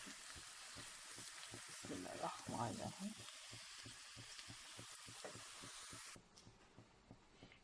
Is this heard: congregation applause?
no